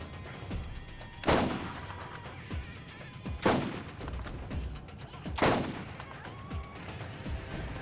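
Three loud, spaced gunshot bursts from the Borderlands video game ring out over a low background of game ambience, each a sharp crack with a brief tail.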